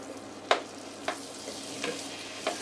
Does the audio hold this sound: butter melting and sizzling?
yes